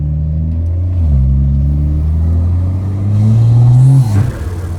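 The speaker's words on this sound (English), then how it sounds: "That intake though, I put a way bigger filter on there, and that thing sounds good, man." A BMW B58 engine fitted with a larger intake filter revs hard and close. Its deep droning note climbs in pitch in two pulls, then drops off sharply at the end.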